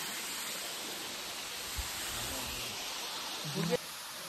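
Steady broadband rush of a small forest waterfall at a campsite, a constant close wash of falling water with a brief low thump and rustle near the end.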